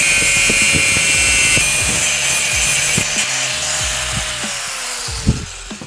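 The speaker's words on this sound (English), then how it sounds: "We're gonna cut off the end of the bolt with our angle grinder." An angle grinder cuts off the end of a bolt during carburetor work on a 1974 BMW 2002, a loud continuous high-pitched grinding whine with a slowly sagging tone and a few knocks, close up and without talking.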